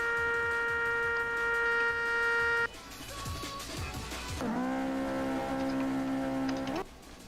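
A synthetic video game car engine holds a high-pitched whine, drops away, then sweeps back up to another sustained high rev near 14,000 rpm before cutting out.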